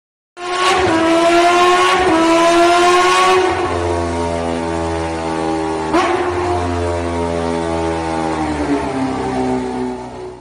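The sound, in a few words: cartoon motorbike engine revving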